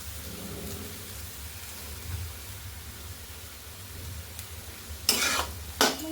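Banana flower vegetable being stirred while frying in a pan, a soft steady sizzle throughout with a couple of sharp scraping stirs near the end.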